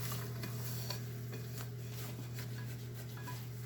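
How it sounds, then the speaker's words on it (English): Flour paste being whisked into gravy in a pan for biscuits and gravy: a steady, low sizzling hiss runs throughout, with faint soft scrapes and light clinks of the whisk against the pan. "using a whisk will help you keep all the lumps out"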